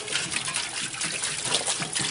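Metal parts and a tube clamp are dipped into a shop-made pan of acetone, giving a continuous liquid sloshing and splashing that stays close and steady for about two seconds. No voices are heard.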